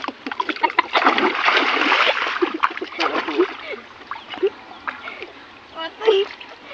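Water splashes and sloshes in irregular bursts close by, with people talking over it.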